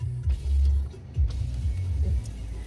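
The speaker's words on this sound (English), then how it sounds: "Let me start this car before you come down." A 2022 Toyota Yaris is started up nearby, with short low engine bursts and a rising rev that then settle into a rough, uneven idle, close and moderately loud.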